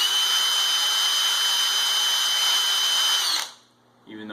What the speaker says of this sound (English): So the drill is actually set on the drill torque setting and the high speed setting